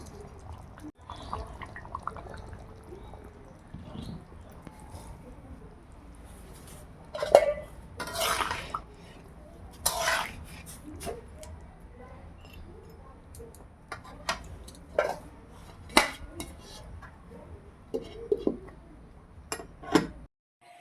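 Cooked chicken meat is served from a pot with intermittent clinks and scrapes of dishes and cutlery, scattered knocks over a quiet background.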